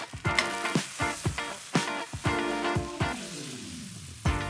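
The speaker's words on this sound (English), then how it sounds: "Little chefy touch of flambeing it." Whisky pan sauce sizzles and crackles in a hot pan during flambéing for rump steak, with a run of sharp bursts and hisses that rise and fade close by, a final flare near the end.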